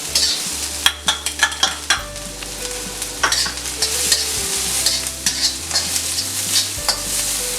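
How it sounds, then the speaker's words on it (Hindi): Chopped capsicum and onions sizzling and frying in a hot pan for chicken Manchurian, with a close, steady hiss under repeated scraping stirs of a spatula and no talking. "अब हम इसमें हम डालेंगे शिमला मिर्च।"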